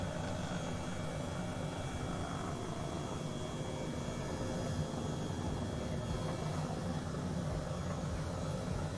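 A helicopter in Microsoft Flight Simulator above Tokyo gives a steady, unbroken engine and rotor drone with a constant thin whine, moderately loud and even throughout, without talk.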